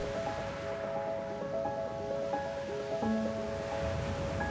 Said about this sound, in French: Les vagues, dans leur danse perpétuelle, fascinent par leurs mouvements rythmiques et hypnotiques.